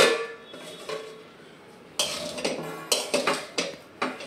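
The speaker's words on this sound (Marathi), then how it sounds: "आम्ही आपलं झालेलं आहे तर एक जस्ट फक्त झाकण ठेवते." A lid set onto a pan of sautéed raw banana, giving a quiet opening followed by several loud metallic clanks and clattering knocks close by.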